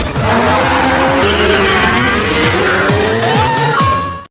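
A car from the 2015 film Dilwale screeches as its tires skid, a loud continuous squeal over a roaring engine, with repeated sharp tire chirps toward the end as it swerves.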